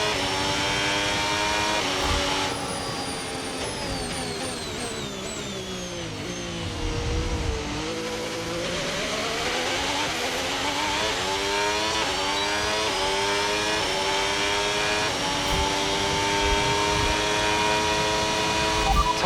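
A Formula 1 car engine in the F1 26 racing game drones loudly and without a break, its pitch falling through a downshift and then climbing steadily as the car accelerates.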